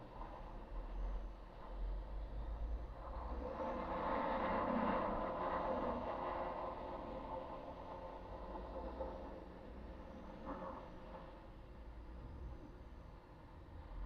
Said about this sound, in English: has some truck noise, and it might be like a rock quarry or something.